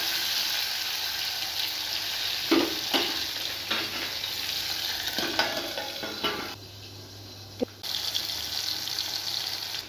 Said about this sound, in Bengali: আমি এই তেলটার মধ্যে একটু জিরে ফোড়ন দিয়ে দিচ্ছি